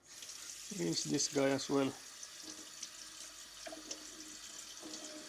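Water runs steadily from a kitchen tap while something is rinsed in a house, forming a soft hiss in the background. A voice speaks briefly over it near the start.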